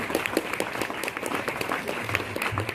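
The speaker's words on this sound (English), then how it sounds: "All of you, please give a big round of applause for DrTPS sir." Audience applause for a speaker at a school event, a sustained round of clapping from a crowd, even and moderately loud across the whole stretch.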